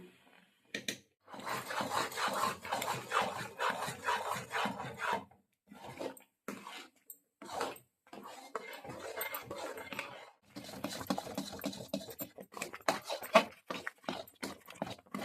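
A spoon scrapes and rubs steadily through a thick chyawanprash mixture of cane jaggery and beet salt in a pan, a close rasping stir in repeated strokes with brief pauses.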